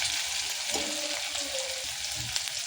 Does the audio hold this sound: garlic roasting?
yes